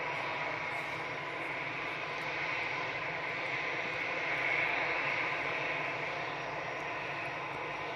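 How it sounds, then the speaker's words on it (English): A TUI Boeing 737 departing for Palma, a steady distant jet engine roar that holds evenly throughout with a slight swell midway. "TUI's off to Palma, 737"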